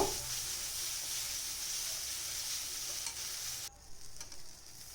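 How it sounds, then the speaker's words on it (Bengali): A paste of ground coconut, green chilli and white sesame sizzles in hot oil while being stirred, a steady close hiss that cuts off abruptly near the end, leaving quieter scraping and bubbling. "সেই বাটা মশলাটা যেটা বাটলাম নারকেল এবং লঙ্কা আর তিল সেটা দিয়ে দিলাম সাদা তিল তো সেটা দিয়ে একটু নাড়াচাড়া করব"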